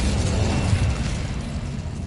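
An Incendio fire spell cast in Hogwarts Legacy, heard as a dense, steady roaring blast with a low rumble that fills the short moment without any talk.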